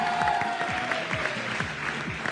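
An audience claps for a poetry couplet during a comic televised game show, a brief burst of dense, steady applause from a crowd.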